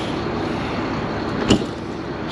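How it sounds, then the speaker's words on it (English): A heavy door on a 2006 Alfa See Ya 40FD Class A diesel motorhome shuts with a single solid thud, heard over the steady drone of the running engine. "Lord, that's a heavy door."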